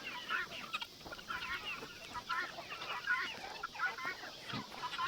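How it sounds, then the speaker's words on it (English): White chickens cluck and murmur continuously in a busy flock, several birds layered together at moderate distance with steady background noise. "I honestly do not know where these white chickens come from."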